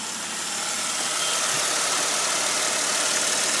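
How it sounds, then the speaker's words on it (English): A 2004 Jeep Grand Cherokee WJ with the 4.0 engine idles steadily with a constant hiss and low mechanical rumble, and a noise seems to come from the front of the engine. No one talks. "definitely sounds like it's coming from the front of the engine"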